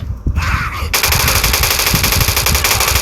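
Rapid, loud bursts of automatic machine-gun fire in a video game, dense and continuous after a brief opening shot, with no pauses.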